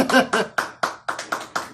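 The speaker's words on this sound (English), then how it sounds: "Round of applause for Gerald" A small group claps in a few separate bursts for Gerald, the bursts distinct and fairly close, with some speech and chuckling mixed in.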